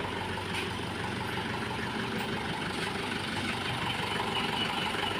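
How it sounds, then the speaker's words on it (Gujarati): A tractor engine idles steadily at close range, a continuous low rumble that holds even throughout without revving or pauses. "ટ્રેક્ટર આવી ગયો"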